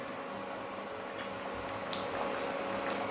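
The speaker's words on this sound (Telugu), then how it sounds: "ఎలా బాయిల్ అవుతుందో చూడండి." A pot of chicken pulusu gravy bubbles steadily on the stove, a soft continuous boiling burble with occasional small pops, heard alone and quiet.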